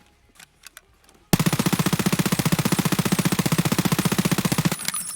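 P90 submachine gun firing a long, steady full-auto burst in Escape From Tarkov, loud and close, with rapid even shots for about three and a half seconds after some quiet clicks, then cutting off.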